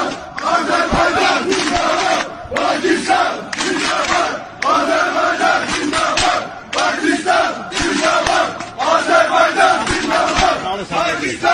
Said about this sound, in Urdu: یہ آذربائیجان کی فوج ہے جو پاکستان زندہ باد کے نعرے لگا رہی ہے۔